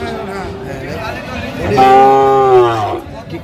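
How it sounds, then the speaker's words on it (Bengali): A Sahiwal-type bull at a Chattogram cattle market lets out a long, loud, drawn-out moo that swells and fades, rising out of a background of market murmur. "বেশ সুন্দর গরুগুলো"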